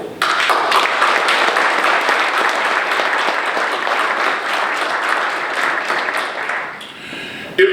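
A county audience at a morning government session claps for its infrastructure teams in sustained, dense applause that stays loud and steady before cutting off near the end.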